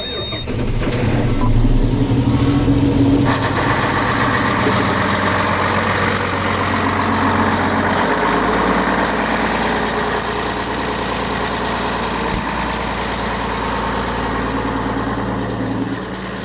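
A farm tractor or truck diesel engine turns over after preheating and settles into a steady, loud idle, with a brief deeper chugging at the start and a constant rumble that continues to the end.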